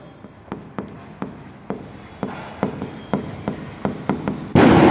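A pen writes by hand on paper with a steady series of short scratchy strokes, each ending in a light tap, in a quiet room, until a louder rustle at the end.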